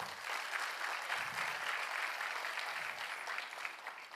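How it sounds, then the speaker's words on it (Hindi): A group of listeners breaks into applause, a steady patter of clapping that stays fairly soft and distant and holds evenly for about four seconds. "ताली बनती है भाई"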